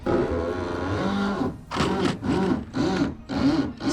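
A power driver with a long bit spins a screw that strips out in 2x4 framing, giving repeated whirring bursts that rise and fall, four or five close pulses after a steadier stretch of motor noise.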